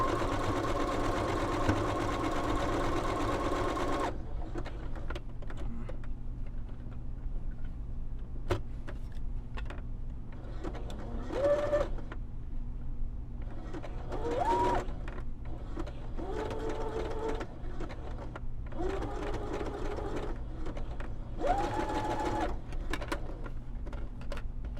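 A sewing machine stitching through a journal page, running as a steady mechanical whirr with short pauses and bursts throughout, close and moderately loud, with faint crafting handling noises between runs.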